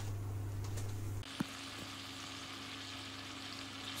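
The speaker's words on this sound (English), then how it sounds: "So here is my onions, and it's really important to keep stirring so it doesn't get burned or get too dark too quickly." Onions for onion soup fry in a pot with a soft, continuous sizzle. A spoon stirs them, giving a brief scrape and clack, and the sizzle carries on quietly with nobody talking.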